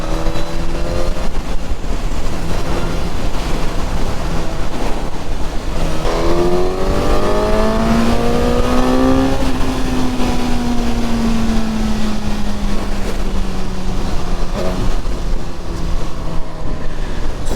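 Suzuki GSX-S 1000 motorcycle accelerating hard on a city ring road, engine note climbing through the gears and dipping at shifts, loud and continuous under heavy wind rush.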